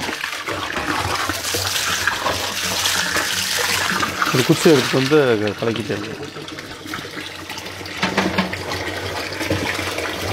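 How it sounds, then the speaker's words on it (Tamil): Water gushes steadily into a container while mixing a natural tree pest repellent, a loud splashing rush interrupted mid-way by a brief gurgling burst, with someone talking over it. "தண்ணி ஃபுல் பண்ணிட வேண்டியது."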